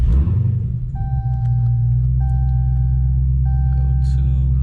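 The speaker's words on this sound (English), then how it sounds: "let's turn the car on real fast" A Dodge Hellcat Charger sits at a deep, heavy idle, its low rumble steady and loud after a brief start, with a repeating two-tone chime sounding three times over it.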